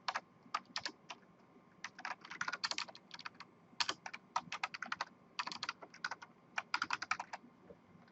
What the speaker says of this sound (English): So right here, if you type in PowerShell,